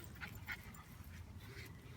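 Dog whimpering and panting in a sloped backyard, soft high whines and breathy pants repeating over background noise, fairly faint, with no talk.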